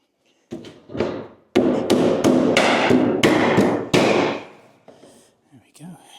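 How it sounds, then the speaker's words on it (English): Loud, close metallic bangs and thumps from riveting and crimping a replacement rear panel on a Land Rover Series 3 tub: a sharp hit, then a quick irregular series of about seven heavy strikes, with a voice near the end. "it's a case of gluing, riveting, crimping, clamping while we wait for the glue to set"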